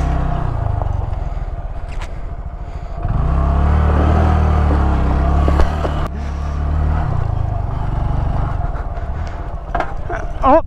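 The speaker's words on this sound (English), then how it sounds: "Oh, that was my exhaust." Honda Grom motorcycle exhaust during stunt riding, a loud low engine rumble that swells as the throttle opens and stays close, with a voice speaking over it near the start.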